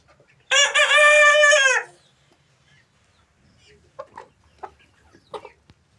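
A close, loud crow from a Tiger breed rooster on a chicken farm housing birds of various ages around 1.5 to 2.5 kg, followed by scattered soft clucks and short calls from the flock.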